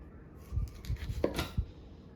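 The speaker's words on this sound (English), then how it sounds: "I'm going to cut nice big slices" A knife cuts big slices from a Hulk tomato, giving a handful of soft, close, quiet chopping taps with crisp squelchy cuts in an uneven rhythm and no talking.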